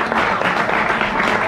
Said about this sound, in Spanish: un fuerte aplauso también al Trashy